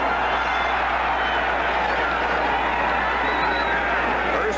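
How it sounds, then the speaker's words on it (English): A roaring stadium crowd at a 1979 Cowboys vs. Eagles NFL game in Philadelphia sustains a loud, dense, continuous din with no breaks, heard from within the stands. "What an enthusiastic crowd"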